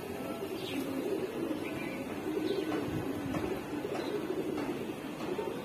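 Giribaz pigeons coo softly in a loft, with low, repeated burbling calls over a constant background hiss at a quiet level.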